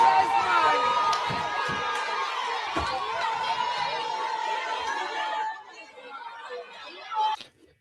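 A large crowd gathers and chatters in Tivoli Gardens, Kingston, a dense steady murmur of many voices close by, thinning out slightly near the end.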